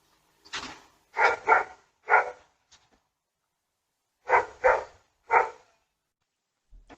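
A dog caught on a home CCTV camera barks in two short bursts, three or four sharp, fairly close woofs each, with a pause between and no talk.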